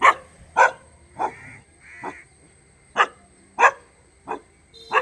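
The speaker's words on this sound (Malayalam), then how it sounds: "എൻ്റെ നേരെ കഴിക്കാനായിട്ട് വരികയാണ് ഈ പട്ടി" A stray dog barks repeatedly at close range, sharp yelping barks in uneven bursts with short pauses between them.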